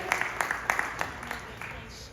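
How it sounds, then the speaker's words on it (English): An audience in a Baptist church hosting a town hall applauds, producing a short burst of scattered claps that thins out over a couple of seconds, with speech running alongside. "We give another round of applause for Pastor Jackie and Alan Temple for hosting us this evening."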